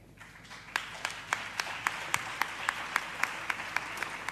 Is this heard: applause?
yes